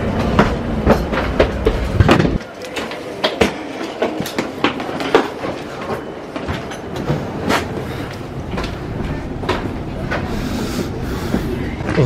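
A double-decker intercity train rolls along with a rhythmic clatter of wheels over rail joints, a low rumble underneath and occasional voices nearby.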